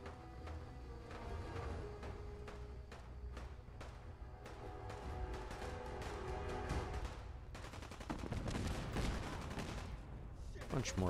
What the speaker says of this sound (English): Bunch more explosions going on